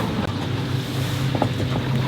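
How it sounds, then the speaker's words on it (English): Wind blowing at 18 to 20 knots with gusts to 25 across a sailboat under sail on passage, making a steady, unbroken rush of air with a low droning hum underneath and no talking. "now the wind is back and it's blowing 18 to 20 knots, occasionally gusting to 25, and we are cruising"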